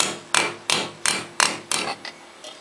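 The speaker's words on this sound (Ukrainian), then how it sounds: "Молоток такий маленький." A small hammer strikes metal while a small hoe is being made by hand. There are about seven sharp, evenly spaced taps, close and fairly loud, with no voices.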